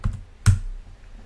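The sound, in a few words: typing a name on a computer keyboard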